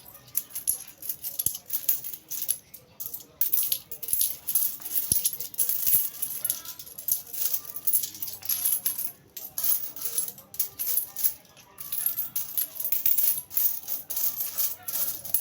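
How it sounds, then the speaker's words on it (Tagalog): Many 20-peso coins clink and jingle as they are handled, in busy irregular bursts of metallic rattling that run close and continuous. "Ang dami naman barya naman na Tig-20."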